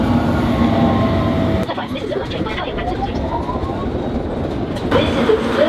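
A London Underground Circle Line train runs with a loud steady rumble and rail clatter, and squeals and clicks rise and fall while an onboard announcement voice speaks.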